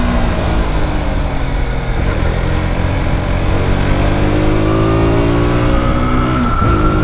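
KTM RC 200 sport bike pulling hard through third gear on a wet racetrack, its single-cylinder engine note climbing steadily in pitch through the mid revs, loud and close, with a brief dip near the end before it rises again.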